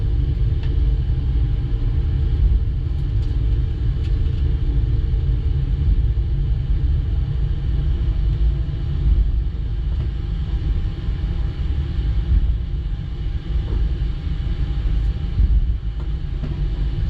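A Boeing 777-200LR taxiing in the Ufly flight simulator, heard as a continuous low engine rumble with a steady hum. No voices are heard.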